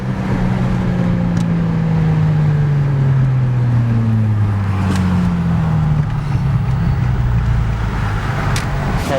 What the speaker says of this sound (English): They can definitely hear the downshift